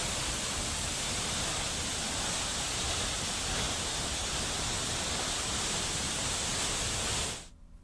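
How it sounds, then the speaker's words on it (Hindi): Tiger Fall waterfall pours at full force after heavy rain, a dense, loud, unbroken roar of crashing water that holds steady before cutting off abruptly at the end. "आप तस्वीरें देखिए कि किस तरह से ये फॉल पूरी प्रचंड गति से बह रहा है।"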